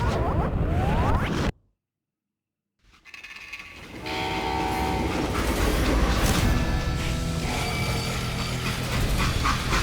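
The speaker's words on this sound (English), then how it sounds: "They hopped a freight train" A freight train in the Call of Juarez Gunslinger video game rumbles loudly and steadily with metallic clatter and rattling, cut by a brief dropout of near silence before the heavy rolling noise returns and carries on.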